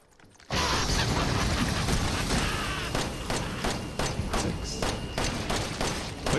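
Shotgun blasts in the horror video game Resident Evil 7 during a Madhouse speedrun, a dense run of loud, rapid mechanical bangs and thuds with clicking reload sounds, continuous after a brief quiet start.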